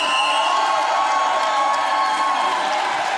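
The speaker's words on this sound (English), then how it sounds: "Now the crowd is loving it." Spectators at a roller derby World Cup match between Czech and Indigenous Rising cheer and shout in a loud, continuous roar, with high whoops rising above the crowd throughout.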